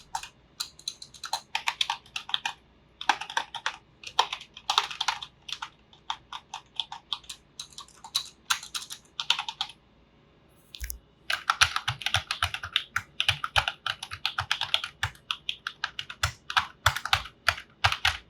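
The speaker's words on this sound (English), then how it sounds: "Let's check keypad sound. So whenever we're going to type anything, it's going to appear a little sound" Rapid, crisp keystrokes on a Logitech K120 wired USB computer keyboard come in bursts, pausing briefly before resuming with a few heavier thumps mixed in.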